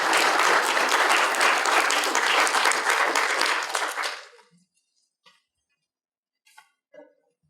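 An audience welcoming a speaker bursts into loud, sustained applause for about four seconds, then it fades into near silence with a few faint clinks and small sounds.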